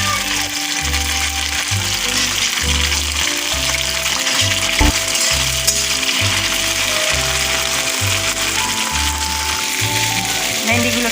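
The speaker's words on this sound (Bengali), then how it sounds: "ভেন্ডিগুলোকে আমি ভেজে নেবো এখন।" Okra frying in hot oil with black cumin seeds and green chillies: a continuous close sizzle, with a rhythmic low hum pulsing underneath.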